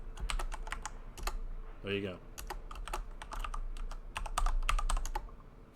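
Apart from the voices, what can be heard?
typing on a computer keyboard for chat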